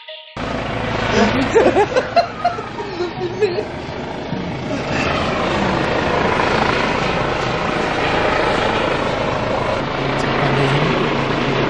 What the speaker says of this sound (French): 2 hélicos.